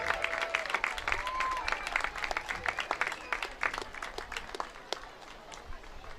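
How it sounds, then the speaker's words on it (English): An audience at a high school football game applauds a Hall of Fame inductee, distinct separate claps ringing out across an open stadium, uneven and fairly distant, with some voices in the crowd. "Round of applause for Zach Wallace."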